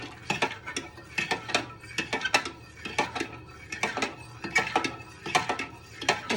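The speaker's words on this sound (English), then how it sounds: "with a fork, you want to stir this all in" A fork clinks steadily against a pot as minestrone ingredients are stirred, making a quick, regular metallic scraping and tapping rhythm up close with no talk.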